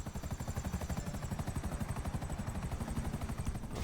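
Helicopter flying in the video game GTA, with a rapid, continuous rotor chop and a low throbbing beat that stays loud and steady throughout, with no voices.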